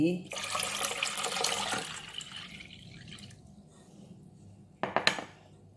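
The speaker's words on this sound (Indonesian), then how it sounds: "Ditambahkan air 900 ml." About 900 ml of water pours into a pot for making pudding, a close rushing stream that tapers off, followed by a few clinks of a pot or utensil. A voice is heard at points.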